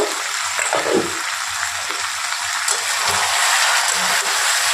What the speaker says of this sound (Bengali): এইভাবে আমি চিকেনটা কষতে থাকবো 2-3 মিনিট ঢাকা চাপা দিতে দিতে